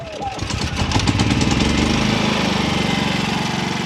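A Champion 7000-watt inverter generator catches after choking and settles into a steady, throbbing engine run, loud and close, with a rough burst at startup before it evens out.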